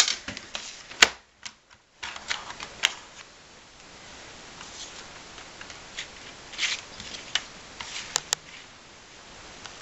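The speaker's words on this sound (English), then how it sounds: "I'm going to trim a little bit from the top and a little bit from the bottom of the stamped image" A paper trimmer cuts stamped card stock for a birthday card with close, crisp clicks and slicing rasps, spaced irregularly with brief quiet pauses.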